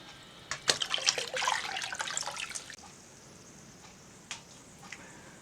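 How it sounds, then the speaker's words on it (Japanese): Water splashes and trickles as a brick is lowered into a container of water for fresco painting, with a busy sloshing burst first, then a few faint drips and small splashes. "次の工程はレンガを水につけます。"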